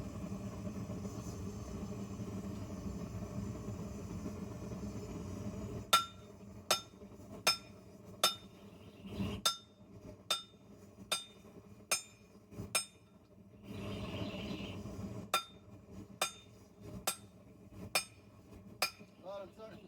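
A hammer striking hot metal during a forge weld, a dozen or so sharp ringing clinks at a steady pace that stop and resume, over a low forge roar.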